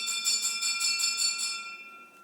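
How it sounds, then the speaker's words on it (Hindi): A bell rings somewhere during a classroom lecture, giving a bright metallic tone that pulses in quick repeated strokes, then stops and lets the ring die away near the end. "एक तो मैं घंटी से परेशान हूँ"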